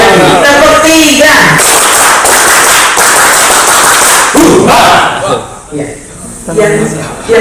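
Crowd at a national mosque seminar in Indonesia clapping in unison on cue, a loud packed burst of hand claps followed by someone speaking and a few scattered thuds.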